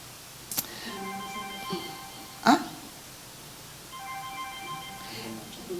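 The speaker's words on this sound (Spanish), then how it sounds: "Algo está sonando y creo que tiene que ser el teléfono de ella" A mobile phone ringing somewhere off in the distance, repeated melodic tone bursts in two separate stretches, faint under a quiet room with a few clicks and knocks.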